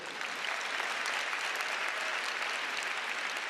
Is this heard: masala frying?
no